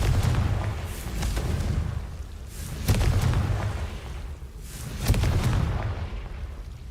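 Blasting curse explosions from the game Hogwarts Legacy, three loud booming bursts at roughly two-second intervals over a rumbling low background.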